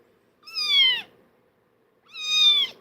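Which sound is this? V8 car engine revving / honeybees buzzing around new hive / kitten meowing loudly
kitten meowing loudly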